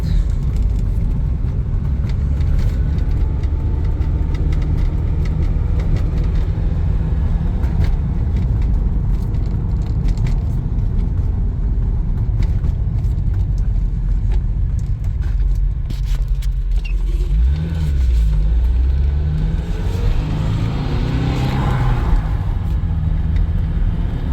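An old Porsche 924 Turbo driving along with a constant loud engine and road rumble from inside the cabin, a steady drone with some rattles and a rising whine late on, no talking.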